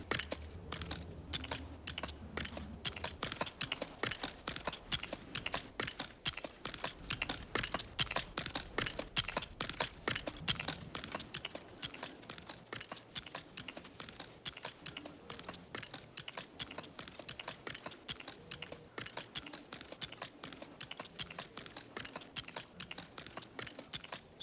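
Rapid computer mouse clicking while placing parts in a Clock Works circle build, a dense, steady run of close, crisp clicks that continues almost without pause.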